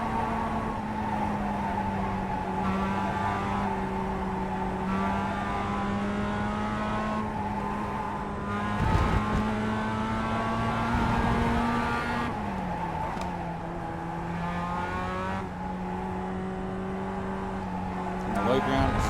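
Simulated race car engine in iRacing droning steadily and loud, with pitch steps as it shifts and accelerates out of a corner, a voice talking over it throughout.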